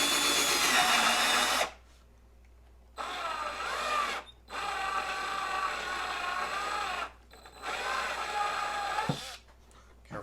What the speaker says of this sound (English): We're just going to drill 2 holes in it.